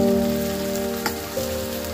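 Sliced onion fries in hot oil with cumin and browns, giving a steady, close hiss and sizzle with a couple of faint pops. A low hum sounds underneath and no one speaks.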